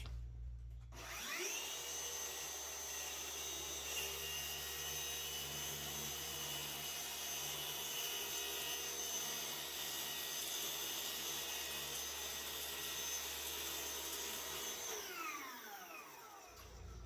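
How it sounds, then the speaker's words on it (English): A Ryobi track saw cuts a rubber strip, spinning up after a click, then holding a loud, steady whining buzz for about fourteen seconds before winding down at the end, close by with no talking. "Now the next thing to do is I need to cut this rubber piece off."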